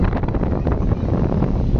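Strong wind buffets the microphone in a loud, continuous low roar with gusty fluctuations, no other sound standing out.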